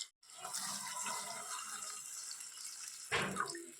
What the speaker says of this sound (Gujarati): હવે બટાકા ચડી જાય એટલું આપણે થોડું પાણી નાખી દઈએ